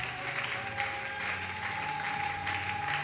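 A church congregation at a Sunday Easter service applauds to acclaim the king, a steady wash of clapping heard for a few seconds over a sustained organ-like tone.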